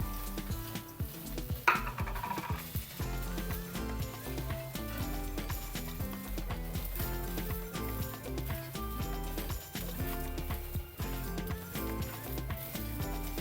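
Roasted peanuts and black sesame seeds stirred and dry-roasted in a pan for chutney powder: a constant dense rattle and scrape of small seeds and nuts with a faint sizzle throughout.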